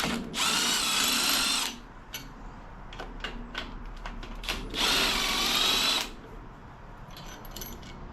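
A power tool loosens cylinder head bolts on a D-series engine in two loud whirring bursts of a couple of seconds each, separated by metallic clicks and rattles of parts being handled.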